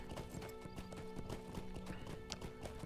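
Horse hooves galloping in the video game Lord of the Rings Online (LOTRO), a rapid, steady clip-clop rhythm with a brief whinny, moderately loud and continuous over game music.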